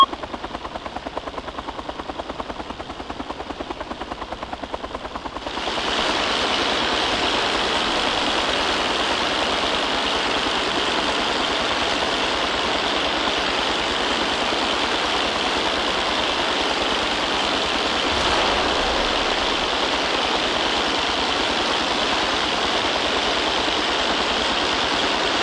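A helicopter in the video game Arma 2, a loud continuous rotor-and-turbine whine that swells up after a few seconds and holds steady, close and unbroken, with no talk.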